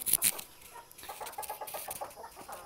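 Laying hens clucking in a busy, continuous chatter, close and fairly loud, with a few sharper squawks near the start.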